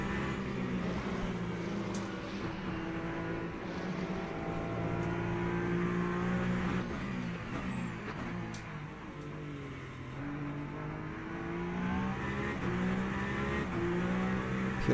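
A Ferrari race car in Le Mans Ultimate, lapping a rainy Fuji circuit, drones and climbs through its revs with rising engine tones and gear changes, steady and fairly close, with faint spray and tyre noise underneath.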